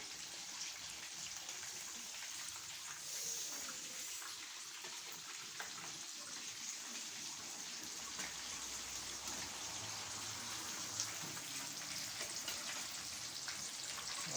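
Chicken pieces deep-frying in hot oil for a homemade Albaik-style fried chicken, a steady dense crackling sizzle with fine popping that runs continuously throughout, close and even, with no talking.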